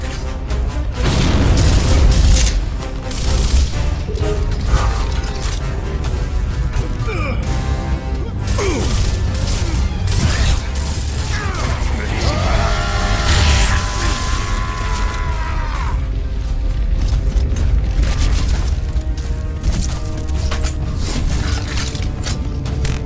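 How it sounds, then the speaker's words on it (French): A booming explosion in Gears of War followed by crashing, rumbling debris and layered effects, loud and chaotic over a long stretch. "Gare à l'explosion!"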